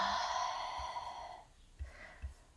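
A deep, slow breath in a quiet room, beginning with a drawn-out voiced sigh-like tone, then softer, fainter breathing sounds.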